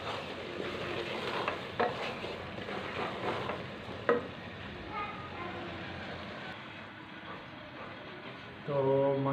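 Chana dal with tomatoes and onions roasts in a pan while a spoon stirs through it, giving a soft sizzling hiss with scraping strokes and a sharp knock. A voice speaks at times over the cooking.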